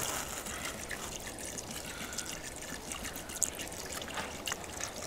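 Kvass trickling and splashing as it is poured over shashlik meat being marinated, a steady, fairly quiet liquid stream with faint dribbling, no voices.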